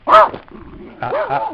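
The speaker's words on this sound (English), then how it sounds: "What are you barking at?" A dog barks nearby, a sharp bark followed by a second, softer bark-like vocalization, with no talking.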